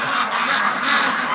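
Free-range ducks quack close by in a loud, continuous chorus of overlapping calls, with no gaps between them.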